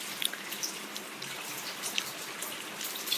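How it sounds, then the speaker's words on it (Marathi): Steady rain with dense, even patter on a surface and occasional sharper drips standing out close by. No voices. "आज आमच्याकडे पाऊस यायला लागलाय बघा"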